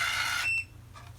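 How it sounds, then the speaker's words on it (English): An automatic curling iron's timer gives a high electronic tone that holds for about half a second and then cuts off, leaving quiet room hum and a faint trailing blip. "The beeping you hear is the timer it has set."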